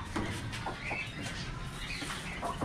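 Chickens, including a large hen, cluck faintly and on and off on a home terrace, with soft scattered calls over a low background hum.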